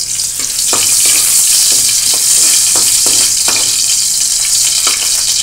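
Ginger sizzling loudly in a small amount of cooking oil in a pan, a continuous bright frying hiss with occasional stirring scrapes, close and steady throughout.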